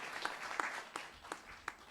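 Faint, scattered clapping from a church congregation, with a handful of distant claps at irregular intervals over a quiet room.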